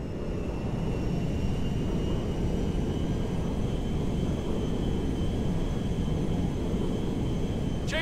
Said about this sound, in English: Meriwether cargo jet to ground control.